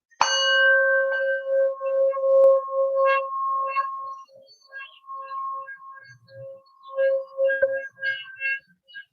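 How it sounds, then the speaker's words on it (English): A single bell is struck once, ringing out clearly with a long sustained tone that slowly fades, followed by faint, sparse chirps in a quiet room. "So just breathe in when I tap the bell here."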